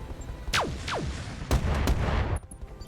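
Mech weapons in the game RogueTech firing at a Nidhogg mech, several heavy discharges with whooshing projectile sweeps and loud booming impacts, spaced about a second apart over a low rumbling background.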